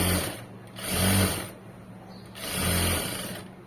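A sewing machine stitches a seam in two steady motorized runs, each swelling and then easing off with a short pause between, heard close and clear without speech.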